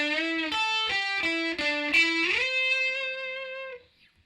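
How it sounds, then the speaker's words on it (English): A distorted electric guitar solo for a song: a quick run of clean, separate picked notes climbing in pitch, then a slide into a held high note that rings out and stops sharply. "And that is solo 3."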